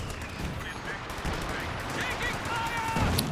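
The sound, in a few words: support guns firing in video game Company of Heroes 2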